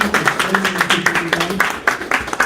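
Audience at a grand opening clapping in a steady patter of hand claps, moderately loud and continuous.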